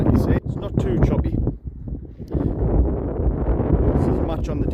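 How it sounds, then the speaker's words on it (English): Strong wind at a seaside pier on the Whitehaven, Cumbria coast buffets the microphone with heavy low rumbling gusts, and a person talks over it throughout. "A bit windy today."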